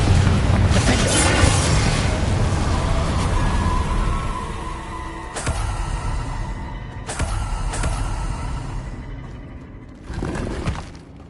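In the video game Hogwarts Legacy, the Confringo fire spell goes off in booming blasts: a heavy roaring explosion at the start, then several sharp bursts with rumbling tails, loud and close, with game voices in between.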